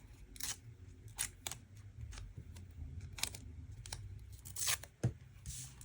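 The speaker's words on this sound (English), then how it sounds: "Same thing, I'm just going to rip it in half." Paper tape is torn by hand while a Happy Planner monthly layout is set up. Several short, crisp rips and crinkles come close by at irregular intervals over a quiet room, with no one talking.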